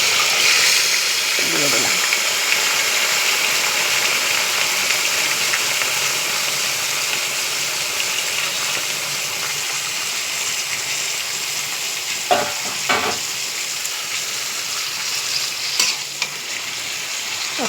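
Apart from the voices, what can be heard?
marinated mutton added to the pan and frying, sizzling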